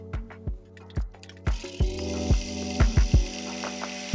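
A sewing machine top-stitches fabric for a DIY storage basket. It makes a close, rhythmic series of mechanical clacks and thumps, and a brighter whirring hum joins in partway through.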